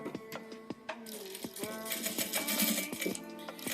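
A sewing machine runs steadily while stitching a fabric-scrap wastebasket, with a dense mechanical whir and a fast repeating needle rhythm, close and moderately loud, broken by a few sharp clicks.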